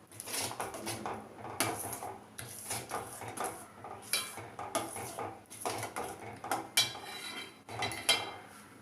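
A spoon scrapes and clinks steadily against a pan while white sauce pasta with cheese and chili flakes is stirred, a close, continuous rhythm of metal knocks and scrapes with no talking.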